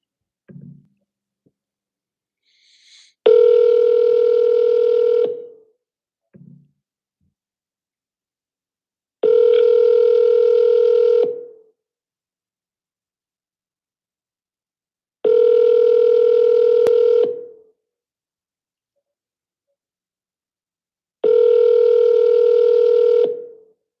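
Four long, loud steady telephone tones sound at even intervals over about twenty seconds, each preceded by brief faint dialing blips, with near silence in between.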